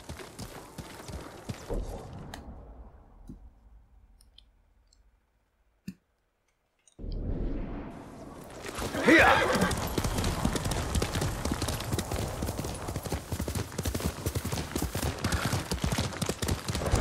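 Rapid hoofbeats clip-clop in a steady galloping rhythm, loud and close, after a brief quiet gap; a faint whinny may sit among the hooves. Horse in the video game Ghost of Tsushima.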